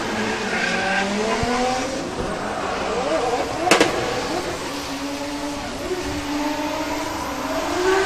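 A drift car in Pro-Am qualifying at the British Drift Championships in Teesside throws a big flick entry without the handbrake, its engine revving and wailing with tyre squeal, while a commentator talks over it.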